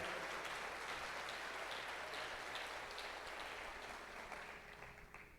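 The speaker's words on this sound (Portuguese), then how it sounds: "Se você crê nisso, aplauda o Senhor aí no seu lugar" Church congregation applauding in place during a service, a dense wash of clapping that holds steady and fades slightly toward the end, fairly distant and without speech.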